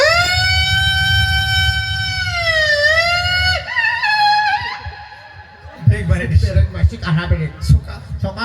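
A voice imitates the siren of a minister's convoy car with a red light, holding a loud, wavering wail for about four seconds before breaking into a noisy burst of talk.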